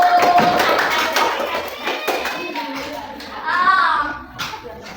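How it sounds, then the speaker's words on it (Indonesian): Pupils in a fourth-grade classroom give a round of clapping for a group, the claps scattered and uneven, mixed with children's voices and chatter. "tepuk tangan untuk kelompok 1"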